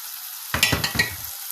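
Chicken livers cooking in cream in a pan are stirred, a sudden burst of sizzle with a few scraping strokes after a silent start, close and fairly loud, with no speech.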